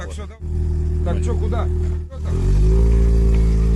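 A vehicle engine with a straight-piped exhaust revs loud and close in a low continuous rumble that dips twice and then rises to a heavier steady roar, with voices talking over it.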